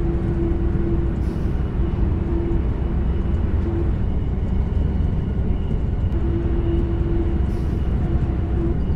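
Diesel train engine in Train Simulator 2022 on the Eindhoven–Utrecht line, a loud continuous low rumble with a steady drone. A faint tonal whine comes and goes over it, and no one talks.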